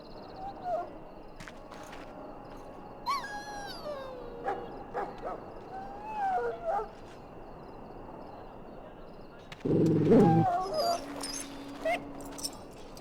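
A mabari war dog in Dragon Age: Origins whimpers and yelps in high, wavering cries and short sliding whines, scattered irregularly over quiet ambience, with one louder burst near the end.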